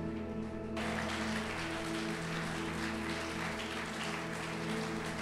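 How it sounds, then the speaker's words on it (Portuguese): Applause from a church congregation during a sermon, a soft continuous spread of clapping that swells in after a brief pause and holds steadily over a faint hum. "Se você recebe, você aplauda forte."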